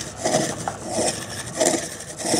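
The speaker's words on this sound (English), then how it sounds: "This is drilling like crazy." A pump drill bores into stone with repeated scraping, grinding strokes in a steady back-and-forth rhythm, loud and close, with no talking.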